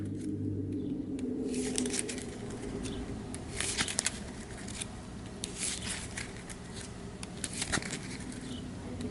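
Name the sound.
shuffling a deck of cards for the board game Dune Imperium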